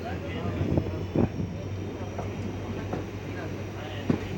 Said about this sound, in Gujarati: હવે આપણી ટ્રેન અહીંથી ઉપડી ગઈ છે